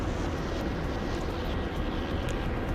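Steady, dense aircraft-like engine drone in a video game, loud and continuous with no break and no talk, consistent with a helicopter's rotor and engine roar heard close by.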